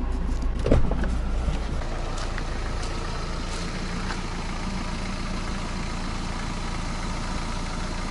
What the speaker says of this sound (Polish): Jak widzicie, auto jest i auto działa.